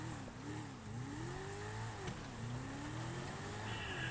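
Car engine in GTA Online revving and accelerating through rising gear sweeps, steady and close, with a brief shift dip midway and no talk.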